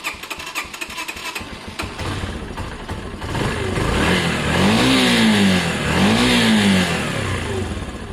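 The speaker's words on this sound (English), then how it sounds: "Let's fire it up and see how it..." A warm Honda CB250 motorcycle engine, started without choke, cranks and catches with rough chugging, then revs up loud and close in two rising and falling blips before settling back.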